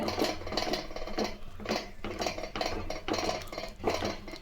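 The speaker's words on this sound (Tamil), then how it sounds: "இதை மத்து வச்சு நல்லா கடைஞ்சிக்கலாங்க" Cooked dal sambar with garlic being mashed by hand with a wooden churner in a pot, a steady series of rhythmic knocking and scraping strokes against the vessel, close and moderately loud, with no talking.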